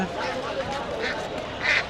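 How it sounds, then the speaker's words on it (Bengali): Ducks quack at a rural poultry market in Tongi, with short nasal calls repeating over a busy background and faint voices mixed in. "এখানেও কিন্তু সবই হাঁস"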